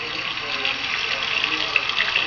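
Water runs steadily from a tap while hands are washed at a sink, a close continuous hiss and splash.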